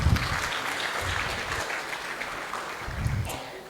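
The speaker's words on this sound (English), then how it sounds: "Let's give them a round of applause" A small gathering at a Sunday love feast claps warmly, a modest, fairly quiet round of applause that runs steadily for a few seconds with slight swells at the start and end.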